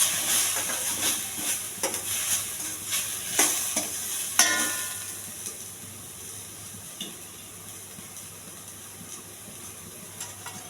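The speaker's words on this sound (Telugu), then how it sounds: "కొన్ని ఆవాలండి, కొద్దిగా జీలకర్ర, కొద్దిగా శనగపప్పు. ఇవి బాగా ఎగర్చాలి." Mustard seeds, cumin and chana dal frying in hot oil, a steady close sizzle with scattered sharp pops and crackles in the first half that settle into a quieter hiss.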